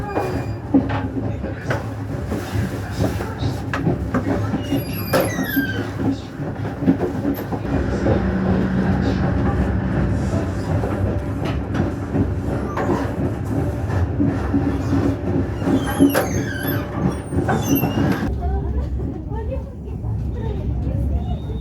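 The KA Gumarang business-class passenger train rolling toward Surabaya Pasar Turi station, a steady rumble with rhythmic clickety-clack from the wheels heard from inside the carriage, and brief squeals and rattles along the way.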